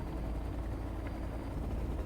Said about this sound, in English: That's a nice helicopter.